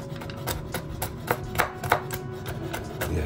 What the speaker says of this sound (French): les hacher un petit peu, noisettes et amandes